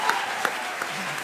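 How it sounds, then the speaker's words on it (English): Light scattered clapping at a Senate hearing, a few hands applauding briefly with faint crowd noise around it. "I would appreciate applause as well"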